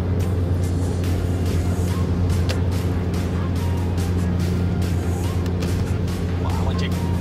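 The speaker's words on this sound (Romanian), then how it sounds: "Încă o depășire regulamentară." A car overtakes on an asphalt road, its engine a steady, loud droning hum from start to finish, with faint rattles on top and people talking over it.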